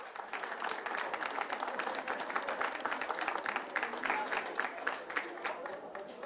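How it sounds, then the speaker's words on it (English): Sustained audience applause fills an esports playoff arena at a live gaming finals event, dense clapping and crowd noise running steadily throughout at close, even loudness with no clear speech on top. "another round of applause for DeNova."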